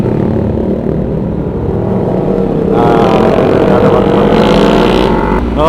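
Several motorcycles ride together on a night ride, a loud continuous engine roar that swells as more bikes pass close by, with wind rush and voices talking beneath.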